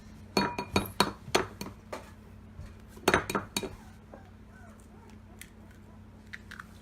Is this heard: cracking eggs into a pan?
yes